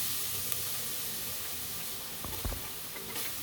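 Garlic, ginger and onions sautéing in hot oil for beef balbacua, a steady soft hiss with a few faint scrapes and clinks near the end.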